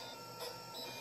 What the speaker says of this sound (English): It's currently printing a job, and this, I would say, is at extremely slow speed